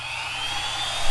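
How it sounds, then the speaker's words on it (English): A steady high-pitched whine of a small rotary tool spinning a sanding drum on a plastic model starship kit, running continuously and close by with no speech. "I'm going to switch to the sanding drum"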